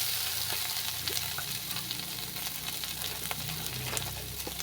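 Chili powder, salt and spices fry in oil in a pan with a steady close sizzle, while scattered scrapes from stirring break through the frying noise; no one speaks.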